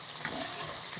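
Bitter gourd pieces fry in hot oil, giving a steady, dense sizzle that holds even and close for the whole second, with no voices over it.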